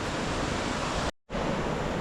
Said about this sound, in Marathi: आणि हे बघा धबधबा